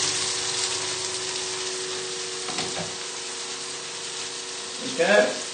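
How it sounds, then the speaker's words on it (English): Pasta being stirred in a pan during a chilli pesto and crispy sausage cook, a steady frying sizzle throughout with a brief louder scrape of stirring near the end. "I'm just going to give my pasta a little stir."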